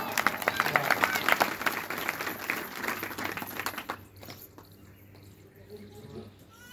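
Audience clapping during a Shiv Mahapuran religious discourse, a burst of close, loud hand claps with some voices mixed in that fades out after a few seconds into quieter background.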